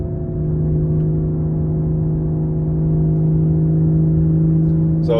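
A BMW G30 540i with 530 hp holds a steady, loud, droning engine note with strong tonal hum after a downshift from fourth to third on a mountain road, sustained without a sharp rise, a voice entering at the end.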